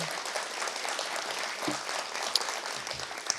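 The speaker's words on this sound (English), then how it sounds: "Round of applause for him." Faculty members at a convocation luncheon applaud a colleague's new degree, a soft, steady wash of clapping from a modest room with a couple of sharper individual claps standing out, fairly quiet and with no speech.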